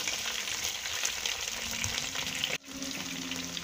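Pieces of smoked meat frying with spices in a pan, a steady close sizzle and crackle throughout with a brief dip near the end, no talking.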